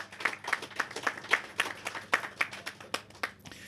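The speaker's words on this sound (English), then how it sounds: "Give the ambassador in Taiwan a round of applause" Sparse, rhythmic clapping from a small audience at a Taiwan-funded Old Road Rehabilitation Project signing ceremony, roughly a dozen distinct claps at a steady pace, moderately quiet and close.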